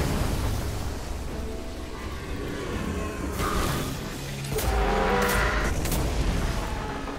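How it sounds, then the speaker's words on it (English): A Destiny 2 explosion booms out of sustained low rumble, with a broad blast swelling around the middle and a second heavy surge near the end, loud and continuous with no talking. "kaboom"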